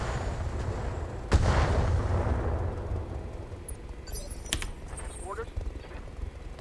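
Mortar fire in the Battletech video game, a single heavy boom followed by rumbling decay and scattered smaller impacts and clicks over a steady low battle drone.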